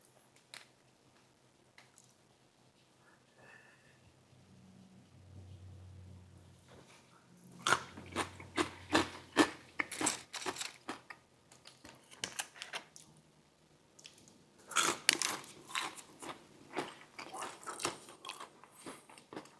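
Crunchy bites of fried fast food from Habit Burger, close to the mic, come in irregular bursts of crackling chews separated by quieter pauses.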